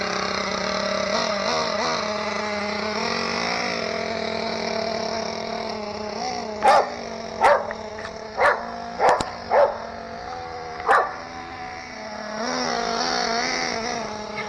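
A dog barks in a short burst of about six sharp, close barks over the steady whine and buzz of a Redcat Hurricane XP 1/8 scale RC car running nearby.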